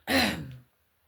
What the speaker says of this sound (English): Excuse me, I'm going to clear my throat.